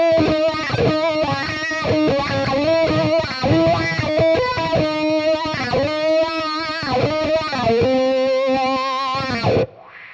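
Distorted electric guitar played through a wah pedal, its tone sweeping open and closed across a continuous riff, loud and steady until it cuts off near the end.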